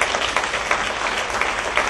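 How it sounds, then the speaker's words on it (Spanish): A church congregation applauds in a steady, moderately loud stretch of many hands clapping, dense and even throughout, with no speech over it. "un aplauso al Señor"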